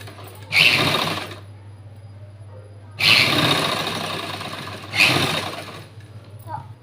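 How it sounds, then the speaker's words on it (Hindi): A sewing machine stitching blouse seams, three bursts of fast whirring stitches, the middle one longest, separated by quieter pauses over a steady low hum, with a person talking. "अब हम मुड्डों पे सिलाई लगा देंगे"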